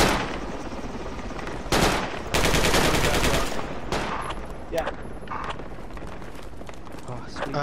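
Gunfire crackles in the video game Project Reality during a helicopter assault, with loud bursts of automatic fire and scattered shots, while a player talks over the combat.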